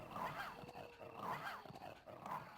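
Dogs in the Resident Evil video game growl in low, rumbling bursts that repeat about once a second, quiet and steady under game ambience.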